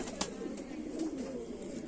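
Brief low rolling coo from Kamagar (Kamangar) pigeons of the Kante-Wale / Jhumke-Wale type, close and steady, with faint flutter above.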